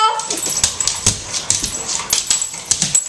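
A dog whimpers and yips in short, high, repeated cries while facing a small household robot indoors, with faint bumps around it.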